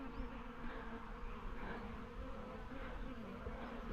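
Angry honeybees swarm around a hive box, a continuous dense buzzing close by at a steady, faint level with no voices.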